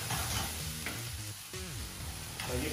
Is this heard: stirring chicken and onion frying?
yes